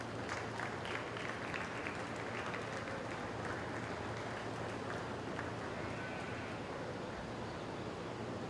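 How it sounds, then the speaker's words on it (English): Sustained audience applause at a county fair beef show after a grand champion market steer is named, a dense steady clatter of many hands filling the hall without pause. "Let's give her a round of applause"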